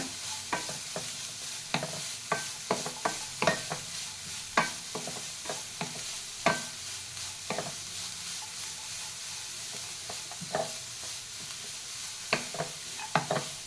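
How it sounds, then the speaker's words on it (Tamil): Grated carrots sauté in ghee in a pan, a steady soft sizzle under frequent sharp scrapes and taps of a spoon stirring at an irregular rhythm. "நல்லா இன்னும் ரெண்டு நிமிஷம் வரைக்கும் நல்லா வதக்கிங்க நெய்லேயே கேரட்டை"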